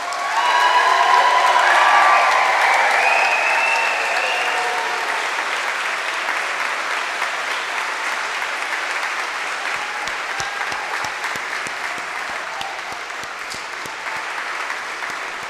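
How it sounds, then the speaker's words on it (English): Sustained applause from a crowd at a physician assistant program graduation for the graduating class, loud and dense with some cheering and whoops at first, then settling into steady clapping that continues throughout. "let's have a round of applause for the class of 2025"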